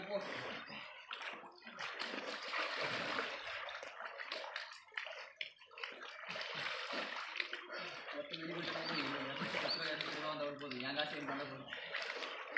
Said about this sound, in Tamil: நல்லா சன தவளை மாதிரி நீந்து போயிருக்கானா